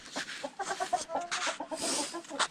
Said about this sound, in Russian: Вот наши петухи на нечищенной стороне.